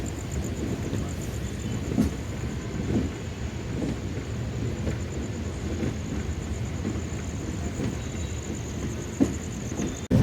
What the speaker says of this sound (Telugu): అటు నుంచి ఏదో ట్రైన్ మన ఓవర్టేక్ చేసుకుంటూ వెళ్తానండి.